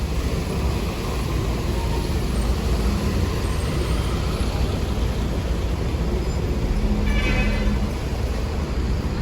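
Several buses of a convoy, Manggala Trans among them, drive past at a busy Makassar bus terminal during the Christmas and New Year holiday rush, giving a steady, loud engine and road rumble with no clear pass-by peaks.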